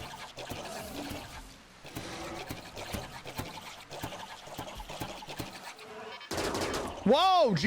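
Gunfire in a video game: bursts of shots crackle over a busy mix of game effects, with a rising whooshing tone near the end, fairly close and moderately loud.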